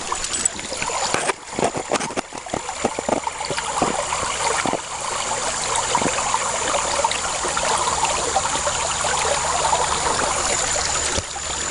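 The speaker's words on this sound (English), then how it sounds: "I found a nice little waterfall here." A small waterfall and stream rapids at a gold-prospecting spot, a steady, close rush of splashing water with some irregular knocks near the start, and no talk.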